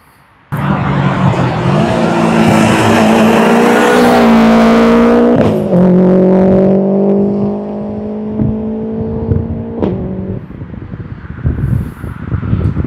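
A modified Subaru Impreza of 600+ horsepower with an altered exhaust revs hard and loud nearby, holding a sustained high-rpm roar, dropping to a lower droning pitch, then settling into a rough, burbling idle.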